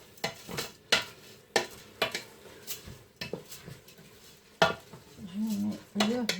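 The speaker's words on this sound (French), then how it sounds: "je mets le riz وغادي نحركو باش يتخلط مع ديك الفلفله." Rice being stirred with peppers in a pan for a seafood rice dish, a utensil scraping and clinking against the pan in irregular strokes, with a soft sizzle in the gaps and no talk.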